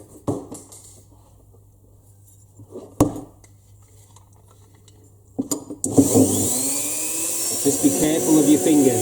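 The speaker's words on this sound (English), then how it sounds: "we want to just grind that out again with the milling tool" A rotary milling tool grinds out cutouts in a diecast metal body shell for a Hobby Design Lamborghini Aventador LB model, starting after quieter handling noises and then running as a loud, sustained high-pitched whine with shifting pitch to the end.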